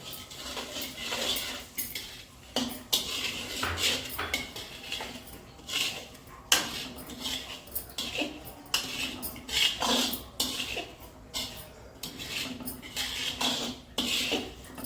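Semolina being roasted in a pan over a low flame and stirred steadily with a metal spoon, giving repeated scraping and clinking strokes close by with no talk.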